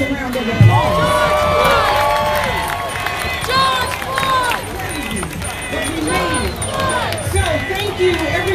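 A crowd of protesters at a night protest in Portland, Oregon cheers and applauds, with loud overlapping shouts and whoops, scattered clapping and voices throughout.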